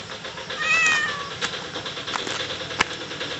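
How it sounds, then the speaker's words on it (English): A cat gives a short, fairly clear meow early on, over steady outdoor background noise and scattered faint clicks. "Friendly cat greeting us."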